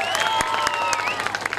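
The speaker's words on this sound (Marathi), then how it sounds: "एकदा त्यांच्यासाठी देखील टाळ्या." Audience at a school centenary celebration claps for dancers in the crowd, steady applause with crowd murmur and occasional sharper claps, with musical tones sounding underneath.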